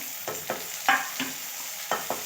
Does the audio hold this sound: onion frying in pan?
yes